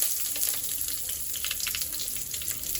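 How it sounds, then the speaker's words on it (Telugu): Sliced onions with a dried red chilli and curry leaves sizzle quietly in oil in a pan for a bitter gourd masala curry, a soft continuous crackle with no talking. "ఇప్పుడు ఇవి బాగా గోల్డెన్ కలర్ వచ్చే వరకు ఫ్రై చేసుకుందాం."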